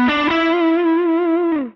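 A sustained distorted electric guitar note with a quick trill at the start and a slide down at the end, ringing alone for under two seconds.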